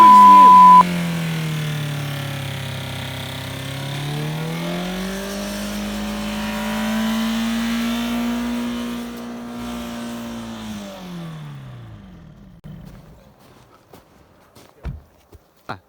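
A BMW E46 2.0 diesel engine runs away out of control, its loud, sustained roar rising and holding at high revs before dying off, followed by scattered knocks and clatter.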